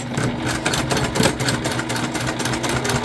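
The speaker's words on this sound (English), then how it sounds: "And we are going to baste around the other three sides." A sewing machine bastes around the sides of a vinyl bag with a continuous, close, even mechanical whir and rapid stitching hum and no talking.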